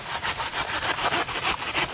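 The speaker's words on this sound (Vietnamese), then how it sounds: "dạo bắt cưa khúc hư này nha các bạn" Steady back-and-forth sawing through a damaged banana tree trunk outdoors, each stroke a rough, fibrous rasp in a quick, even rhythm, close and loud with no talking.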